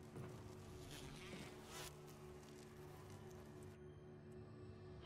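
A swarm of bees buzzes in a Resident Evil game, a thick, droning hum that persists steadily throughout, fairly quiet and unbroken by voices.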